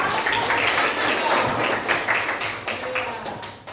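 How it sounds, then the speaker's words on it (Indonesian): Hands clap together in a classroom, a brief burst of applause from several pupils that fades out over a few seconds, with voices mixed in. "Tepuk tangan ya."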